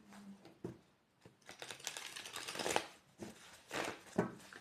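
A deck of tarot cards being shuffled by hand during a reading, soft papery riffles and slides in uneven bursts, quiet and close with no voices.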